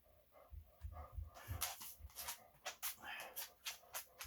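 An old dog whimpers and whines in soft, repeated bursts at moderate to faint level, with shuffling movement and some indistinct background sound in an indoor setting.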